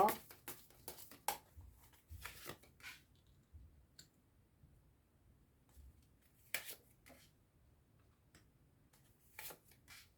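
Message cards being shuffled and drawn by hand, a series of soft clicks and papery flicks in scattered bursts, quiet and close with gaps of near silence between.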